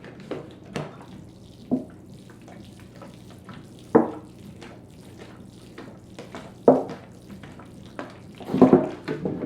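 Water trickles and splashes intermittently into a potted schefflera cutting, with several short pours rising and falling over a quiet background.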